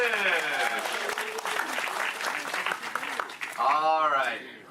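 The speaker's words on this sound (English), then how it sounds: "Round of applause for the Moonfish!" Applause from a theme park show audience at Walt Disney World rises under a clear amplified voice, the clapping fairly distant and spread out while the talk stays on top.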